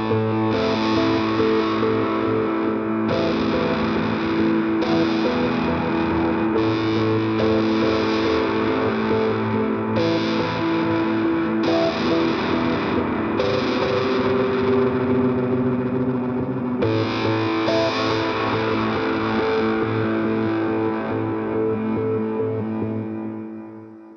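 Custom patch on a Boss SY-300 guitar synthesizer: a thick, distorted, chorus-swirled synth texture with layered sustained tones and rhythmic swells, loud and continuous for over twenty seconds, fading at the end with no talking.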